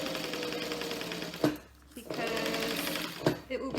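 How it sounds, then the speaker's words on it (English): A sewing machine stitching a bag next to the stabilizer runs in a steady, close, rapid rattle, pausing briefly in the middle before starting again, while someone talks over it. "We're gonna sew right next to that stabilizer"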